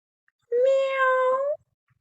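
A single clear cat meow, close and distinct, lasting about a second and rising slightly before fading, surrounded by silence.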